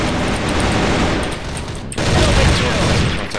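A shooter video game plays rapid, loud gunfire in dense bursts, with a brief drop near the middle before firing resumes, likely including the shot that lands a headshot kill.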